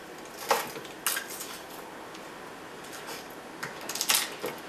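Peeled garlic cloves pressed down on a kitchen surface while making nutmeat patties, giving a few faint, sharp clicks and knocks spaced out over a quiet background.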